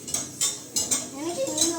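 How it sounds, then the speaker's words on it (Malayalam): A spoon stirs an ice cream mixture in a metal pot, giving several close clinks and scrapes in irregular bursts, with a faint voice in the background. "നമുക്ക് ഇളക്കാം."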